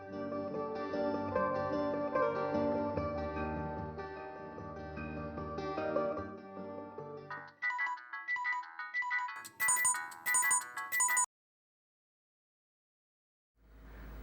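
A telephone ringtone plays in bursts of bright, repeating electronic tones, first over a sustained musical backdrop and then alone, before cutting to silence.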